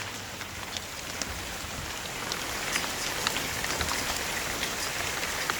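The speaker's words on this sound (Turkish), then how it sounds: "Çünkü öyle bir dolu yağdı ki." Dense, steady patter of heavy hail striking surfaces in Bodrum, Turkey, with sharper individual impacts scattered throughout, constant and fairly distant.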